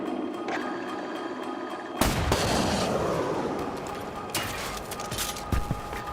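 Gunfire in a shooter video game, a burst of loud shots breaking in suddenly after a quieter stretch, then continuing with scattered bangs and a sustained, dense rumble.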